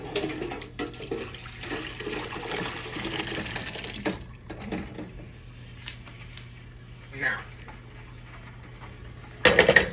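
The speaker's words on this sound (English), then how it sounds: "We're gonna pour that right in here, y'all." Braising liquid poured into a pan of beef short ribs, giving a soft liquid splash and trickle over room noise, with people talking throughout and a louder clatter near the end.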